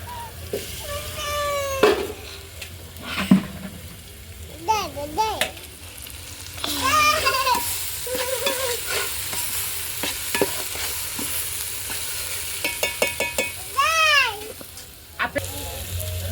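Tamarind pulp being stirred into a pot of Nellore-style fish curry cooking over a wood-fired stove, with loud sizzling and scraping stirs up close, while a cat meows and voices chatter intermittently in the background.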